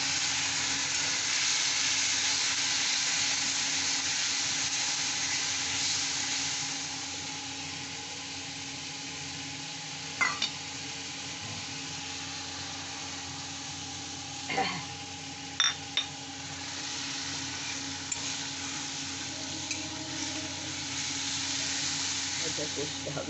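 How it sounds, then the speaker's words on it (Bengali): Spices frying in a pan with water poured in, a steady loud hiss of sizzle and steam running throughout, with a few brief clinks of utensils near the middle. "সামান্য জল দিয়ে দিচ্ছি।"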